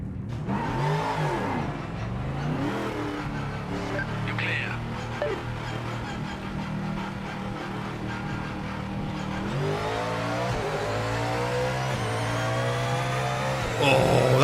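Ford Mustang race car in Project Motor Racing, engine revving up and down through gear changes with steady droning in between and a louder surge at the close.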